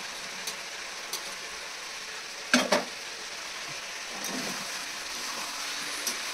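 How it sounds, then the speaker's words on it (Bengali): Fried potatoes tossed into spiced masala with capsicum keep up a steady, moderate sizzle in the pan, broken by a few light taps and a sharp double clatter of the spoon against the metal as everything is stirred together. "ভেজে রাখা আলুগুলো ওর মধ্যে ঢেলে দেবো।"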